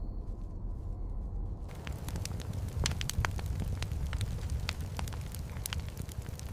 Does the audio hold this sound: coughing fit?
no